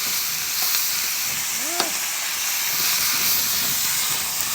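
Beef and peppers fry in a pan for black pepper steak, a steady close sizzle and hiss with faint stirring scrapes, running alone without talk.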